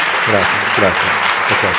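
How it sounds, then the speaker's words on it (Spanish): An audience applauds after a talk on curriculum, steady crowd clapping running beneath a voice speaking over it. "podemos dar un aplauso"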